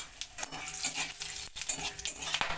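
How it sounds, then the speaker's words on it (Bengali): Hot mustard oil crackles and sizzles steadily with bay leaves, a dried red chilli and white cumin while a utensil scrapes and stirs in a pan, with a few sharper clinks along the way. "এতে আমি দুটো তেজপাতা আর একটা শুকনো লঙ্কা ফোড়নে দিয়ে দিচ্ছি আর দিয়ে দিচ্ছি কিছু সাদা জিরে"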